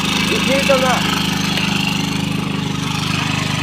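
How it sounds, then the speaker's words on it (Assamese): A vehicle engine labors through water on a flooded road with a loud, steady, low throbbing drone. A voice briefly cuts in near the start. "এই চাক গাড়ীখন কিমান কষ্ট হৈ আছে গৈ আছে"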